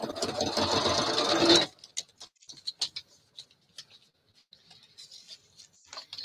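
A sewing machine stitching through a paper booklet runs in a loud, fast, steady whir for about a second and a half, then stops abruptly, followed by faint scattered clicks and taps.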